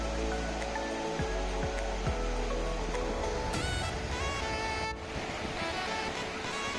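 Sea waves surge and wash continuously onto Karwar beach, a steady loud roar of surf with a few sharper thumps and no talking.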